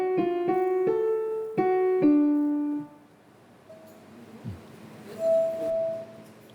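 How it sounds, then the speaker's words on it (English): Water-filled drinking glasses ring out as several struck tones in quick succession, bright clear pitches that decay slowly, followed by quieter shifting tones as the glasses are tuned. "I mean each glass, as they all have a different pitch. It can't be made higher, but the more water you pour in, the lower the tone gets."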